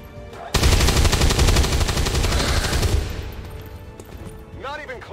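Video game gunfire: a sustained loud burst of rapid automatic shots starting after a brief lead-in and running for a few seconds, then tapering off, followed by faint game sounds and a short voice-like sweep.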